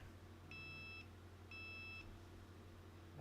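Two evenly spaced electronic beeps from a phone, each about half a second, faint against a steady background hum, with no talking.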